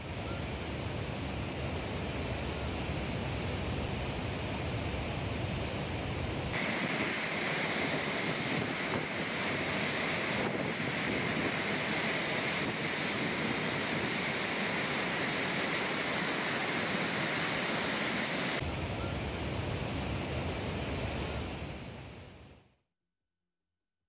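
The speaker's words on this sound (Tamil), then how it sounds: "அருவியில் தண்ணீர் ஆர்ப்பரித்து கொட்டுகிறது" Floodwater pours down the swollen Kumbakkarai waterfall near Periyakulam in Theni district after heavy rain in the Western Ghats, a loud, unbroken roar of rushing water that stays steady for over twenty seconds before cutting off.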